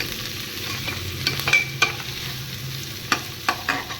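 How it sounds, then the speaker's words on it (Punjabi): Chopped onions and green chillies sizzle in a hot pan with ginger, a continuous frying hiss overlaid by irregular scraping knocks of a spoon stirring against the metal, close and clear. "ਮੈਂ ਪਾ ਦਿੱਤੇ ਪਿਆਜ਼ ਤੇ ਹਰੀਆਂ ਮਿਰਚਾਂ"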